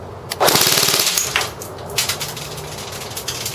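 A G&G F2000 airsoft rifle with optic fires full auto into a chronograph, a loud rapid mechanical burst of about a second, then scattered quieter clicks and taps.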